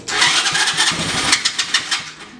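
A small go-kart engine on a weak battery cranks repeatedly with rapid, uneven sputters, turning over loudly and close by without catching, then dropping off at the end.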